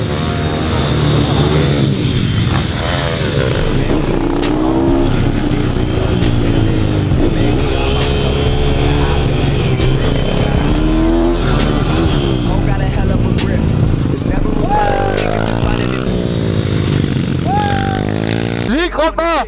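Four supermoto motorcycles race together on a ride out, engines loud and close with rising and falling revs as riders accelerate and shift, while a rider talks continuously over the engine noise.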